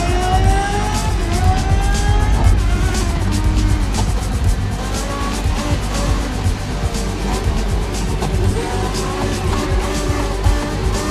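Race cars in Grid Legends roar continuously, engines droning loud and close with shifting revs and overlapping passes, no voices.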